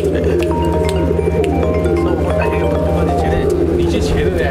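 Andhra breed pigeons in a loft, some sitting on eggs, coo softly and repeatedly over a steady low hum, with other bird chirps scattered through.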